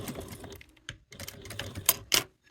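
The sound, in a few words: sewing machine stitching piping on crossbody bag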